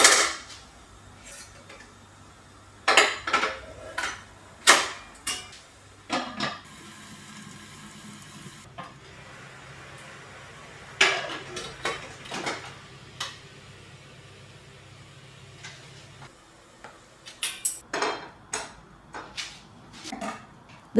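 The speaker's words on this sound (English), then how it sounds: "With all the dishes now ready, I set the rest of the things like plates and glasses." Plates, glasses and cutlery being set out for a healthy party meal in a home kitchen, with scattered clinks and knocks of dishware, some sharp and close, between quieter stretches and a low steady hum.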